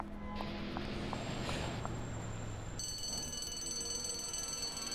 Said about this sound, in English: Is that an alarm?